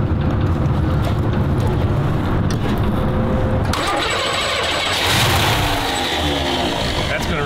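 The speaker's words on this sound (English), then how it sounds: "Let's hear it turn over a little bit first." A muscle car's engine cranks over steadily, then catches and starts up, running loud and close with people talking nearby.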